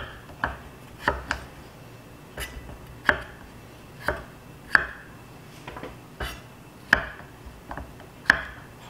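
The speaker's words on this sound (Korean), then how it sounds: "감자는 껍질 벗겨서 이렇게 물에 담가 놓는데 당근하고 같은 크기로 잘라주시면 됩니다" Knife cutting carrots and peeled potatoes into even pieces on a cutting board while preparing beef stew, close, sharp chopping thuds spaced roughly every half second to second, steady and clear with no talking.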